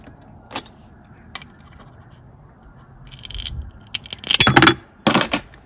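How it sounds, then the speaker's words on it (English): Bits being snipped off a ceramic plate with ceramic cutters, giving sharp crunching snaps and gritty scraping near and fairly loud, scattered at first and then clustered in a busier run of clicks and crackles. "So now I'm going to go through and just cut all these bits off."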